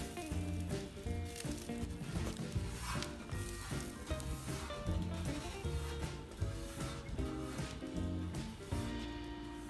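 Pork belly seasoned with salt and pepper sizzling over a hardwood fire, a steady, quiet crackle and hiss that stays even throughout with no talk.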